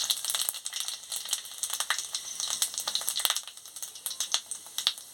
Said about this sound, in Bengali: তেল গরম হয়ে গেছে, 5 ফোড়ন আর শুকনো লঙ্কাটা দিয়ে দিচ্ছি।